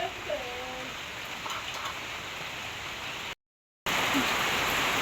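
Heavy rain falls around a house in a steady, dense hiss. The sound cuts out for a moment, then returns even louder, with faint bird notes early on.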